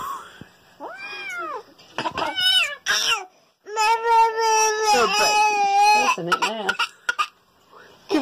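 Cat meows mix with a baby's fussing cries and coughs in a home, bursts of rising and falling tonal calls close by, interrupted by short pauses and adult voices.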